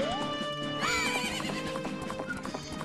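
Horse from the Majora's Mask video game whinnies loudly, followed by a steady rhythmic clip-clop of galloping hooves, layered with game music and effects.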